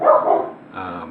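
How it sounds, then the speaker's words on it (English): A couple of barks from a dog close by, followed by a fainter whining yelp as the sound trails off. "sorry about the dogs"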